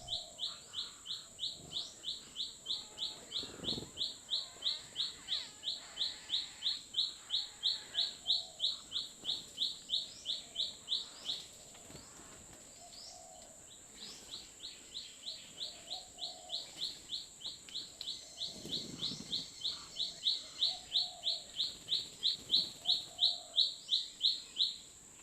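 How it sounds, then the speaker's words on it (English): A streak-eared bulbul calls at a bird hide in Kaeng Krachan, Thailand, giving long runs of quick, evenly spaced chirps at moderate distance, pausing briefly midway before resuming, with faint background sounds. "A streak-eared bulbul, a very common bird throughout Thailand."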